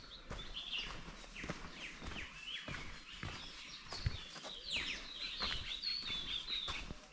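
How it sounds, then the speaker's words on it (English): Migratory warblers, including Blyth's reed warbler, sing at Nandi Hills in a woodland setting, their thin high chirps and trills faint and scattered among soft footsteps and rustling. "I still hear some of the warblers, the migratory warblers, Blight's reed warbler"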